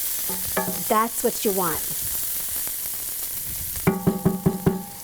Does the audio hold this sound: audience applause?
no